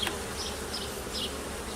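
Honey bees buzz continuously in an open hive during an inspection, a dense close hum with faint higher whines drifting through, with no voices.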